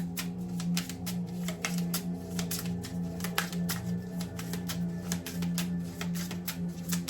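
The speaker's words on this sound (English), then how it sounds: "I'm going to take one card from our last deck." Cards are handled from a deck during a tarot-style reading, producing a long run of crisp, rapid ticks and flicks close up over a low steady hum.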